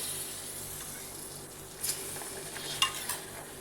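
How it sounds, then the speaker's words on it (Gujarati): Stirring roasted wheat flour mixed with milk in a pan while making sukhdi, a soft continuous scraping and faint sizzle with a couple of light spoon clinks against the pan. "પછી તેને સારી રીતે મિક્સ કરી દઈએ."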